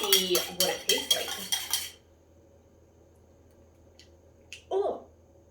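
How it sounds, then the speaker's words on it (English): A bar spoon clinking against a glass while stirring a gin and camomile cocktail, about eight bright rapid rings in the first two seconds, then near silence with a couple of faint later taps. "I'm just going to give this a little stir"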